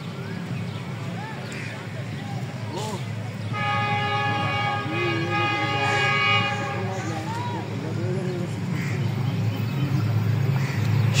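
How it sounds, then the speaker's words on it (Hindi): A fast train roars through Muridke railway station, sounding a powerful sustained whistle mid-pass over a heavy, steady rumble of wheels and cars, with a voice talking over it. "जो कि मुरीद के रेलवे स्टेशन से बहुत ही तेज़ रफ्तारी से गुजरेगी, पावरफुल विस्लिंग के साथ दाखिल हो रही है मुरीद के रेलवे स्टेशन में।"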